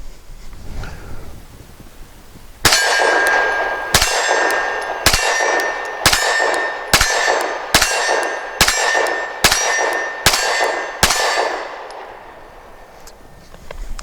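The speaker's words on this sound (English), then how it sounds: "let's see if I can ring this reduced size steel at arguably towards the limit of a lot of self-defense shooting distances" Pistol shots from a Sig P365 SAS ring a reduced-size steel target at long self-defense distance: ten sharp reports in a steady rhythm, each followed by a bright metallic clang, loud and close, with no talking.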